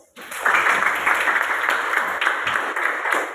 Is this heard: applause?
yes